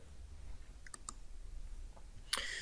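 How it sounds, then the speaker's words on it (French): A few faint computer mouse clicks in a quiet room, with two soft clicks near the start and a sharper, louder click toward the end as a dialog is closed in PowerPoint 2016. "Et je clique sur fermer."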